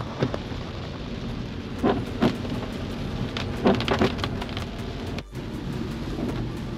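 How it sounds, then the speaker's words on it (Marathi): Heavy rain pours down steadily in a dense wash of noise, with a few louder splashy bursts rising above the constant downpour. "असा धो पाऊस चालू झाला"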